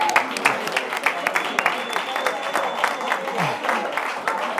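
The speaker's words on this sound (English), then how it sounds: "Big clap to Setu." An audience at a Basque Challenge final event in Africa gives a round of applause, with dense, fairly close clapping and crowd noise.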